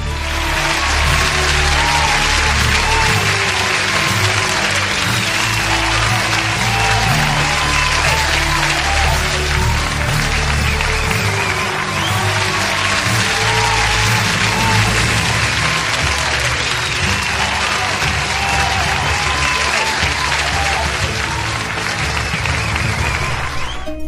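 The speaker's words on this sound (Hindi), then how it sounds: "सारा हॉल तालियों की गड़गड़ाहट से गूंज उठा" A packed hall at a college award ceremony erupts in loud, sustained applause, with dense clapping and crowd noise holding steady and close for the whole stretch.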